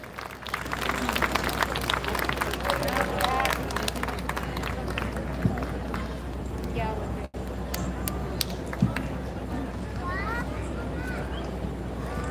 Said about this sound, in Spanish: ¡Bravo, los aplausos!